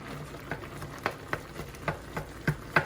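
Ground meat for chili cooking in a pot on the stove gives a steady low sizzle, broken by soft pops and bubbles at irregular intervals.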